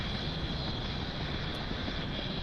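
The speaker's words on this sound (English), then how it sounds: "At the point of max Q, we throttle the Merlin 1D engines down briefly to reduce the loads on the vehicle" Falcon 9 Merlin 1D rocket engines in the Spaceflight Simulator video game, a continuous loud roaring rumble with a steady hiss, unchanging and without voices.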